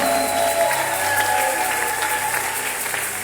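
Church congregation applauding and cheering together, a dense, steady wash of clapping that stays loud and continuous throughout, with voices mixed faintly into the crowd noise.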